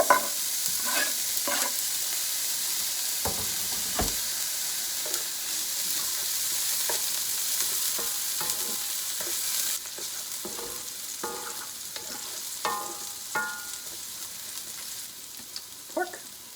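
Leftover fried rice with pork stir-fried in a hot pan with sesame oil: a steady, close sizzle broken by repeated scraping and clattering stirs, with no talking.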